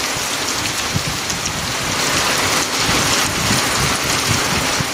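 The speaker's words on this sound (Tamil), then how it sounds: "ஒரு மணி நேரத்திற்கும் மேலாக மழை வெளுத்து வாங்கியது" Heavy rain pours down over the district during a thunderstorm, a loud dense hiss of drops beating on surfaces that stays constant throughout.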